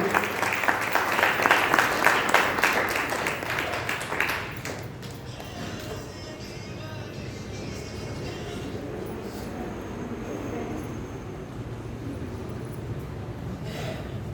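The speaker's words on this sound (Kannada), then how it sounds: "ಜನರ ಚಪ್ಪಾಳೆ" An audience claps together at a felicitation ceremony, dense loud applause for about four seconds that then thins into scattered, quieter clapping and room murmur.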